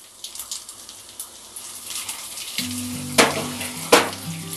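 Coarse mustard seeds and dried red chillies fry in hot oil for a Himachali fish curry, a rising crackling sizzle with sharp popping bursts and a low humming tone joining partway, close and fairly loud with no talk.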